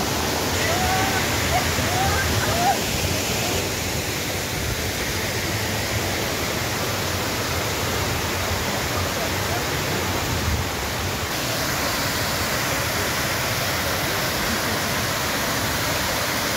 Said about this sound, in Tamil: தண்ணியெலாம் பயங்கர ஃபோர்ஸாக வருது